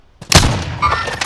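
A grenade blast in the shooter game Call of Duty: Modern Warfare, one loud, close, booming burst that rumbles on briefly.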